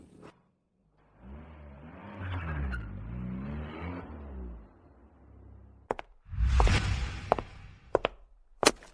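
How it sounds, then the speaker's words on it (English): A car turns around with a moderate engine hum that swells and wavers for a few seconds. A louder burst of motor noise and several sharp knocks and bangs follow. "Turn the car around."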